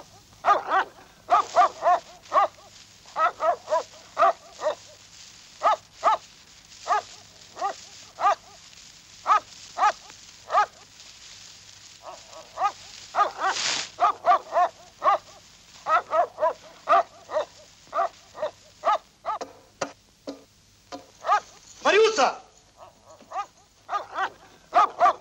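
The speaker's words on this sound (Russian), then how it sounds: "Что это с собакой сегодня?" A dog barks again and again in short sharp bursts, some tight clusters and some spaced out, moderately near over half a minute. Faint hum sits underneath, and the track has an old, thin film-soundtrack sound.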